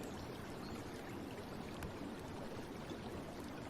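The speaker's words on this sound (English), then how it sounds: "The sound of current is soothing, a silver ribbon of motion in a world grown still." A small stream flows over smooth stones among ferns, giving a steady, unbroken rush of water that stays soft and even throughout.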